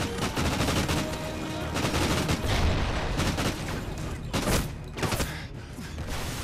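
Gunfire in the video game Call of Duty Ghosts, dense rapid bursts and bangs crowding over each other with a few sharper loud shots standing out.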